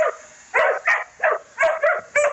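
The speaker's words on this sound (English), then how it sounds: "the dogs are barking" Several dogs bark on a farm during calving season, seven sharp barks coming in an uneven rhythm, fairly close and loud, with a steady faint hiss underneath.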